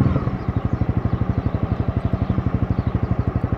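Honda CB300R motorcycle on the move, its engine thrumming in a fast, even pulsing beat close by with a rough mechanical rumble and no voices.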